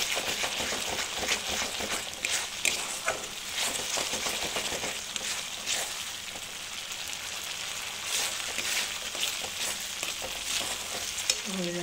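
Chicken gravy sautéing and being stirred in a pan, a steady dense sizzle with repeated scraping and stirring clatter running throughout, close and fairly loud, no voices.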